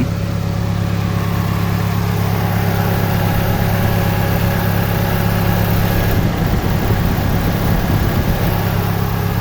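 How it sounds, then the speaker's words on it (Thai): A Toyota Corona sedan with a manual gearbox idles close by, its engine running in a steady, smooth, unbroken hum for the whole stretch, with no misfires or stumbles and no voices. "เราไปรับฟังเสียงเครื่องยนต์ใกล้ๆกันบ้างนะครับ"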